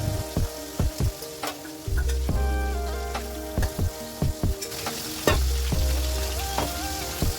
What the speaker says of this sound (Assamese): আৰু ইফালে মই মাছখিনি ফ্ৰাই কৰি আছো